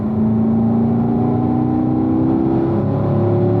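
A car pulls hard out of a corner on a track, and its engine note climbs steadily in pitch and holds loud and close throughout.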